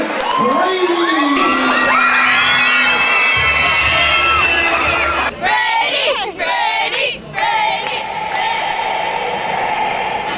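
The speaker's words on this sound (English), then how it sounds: "Give it up right now, big round of applause for my boy, Brady!" A crowd at a live performance event cheers and shouts loudly, with children's whoops and screams. Applause and voices fill the clip, and the noise dips briefly in bursts toward the end.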